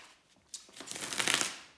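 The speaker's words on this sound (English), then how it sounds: "while I'm shuffling the tarot cards" Tarot cards are shuffled by hand in a quick riffling flutter that builds to a dense, crisp rustle and then trails off, close up with no talking.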